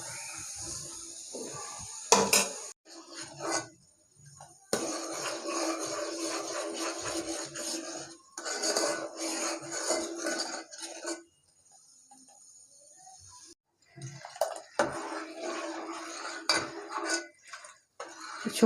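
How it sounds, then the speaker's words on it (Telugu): A spoon scrapes and clinks against a pot as melting butter is stirred for homemade ghee, with bursts of metallic rubbing separated by quieter pauses, close and fairly loud. "ఇట్లా మధ్య మధ్యలో మనం కలుపుతూ ఉండాలి"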